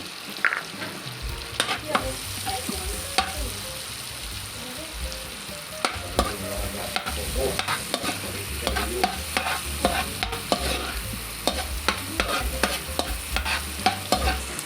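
Onion sautéing in melted butter in a pan: a constant low sizzle with frequent scraping and tapping of a spatula stirring, close and fairly loud, with no talking.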